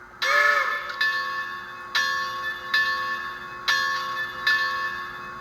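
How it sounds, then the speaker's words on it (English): Bell of a Bachmann Spectrum Santa Fe 2-8-0 model steam locomotive rings in six clear, evenly spaced strokes about one second apart, each decaying into the next over a steady electronic idle hum, with no talking. "The bell."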